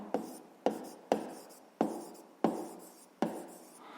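Six short, evenly spaced strokes of handwriting on paper, each starting with a crisp scratch that fades quickly, heard up close in a quiet room.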